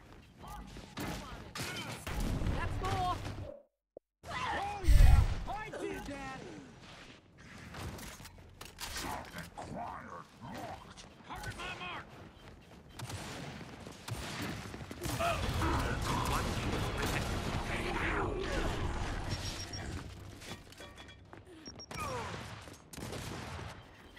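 Bursts of gunfire from Gears 5 crackle through a chaotic match, with repeated rapid shots and clanking mechanisms under ongoing game noise and a voice talking.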